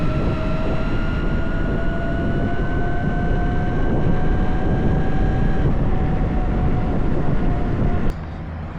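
CYC X1 PRO 6kW mid-drive e-bike motor pulling hard under load, a loud rough roar with a steady whine that rises slowly in pitch, then cuts off abruptly near the end, with no talk.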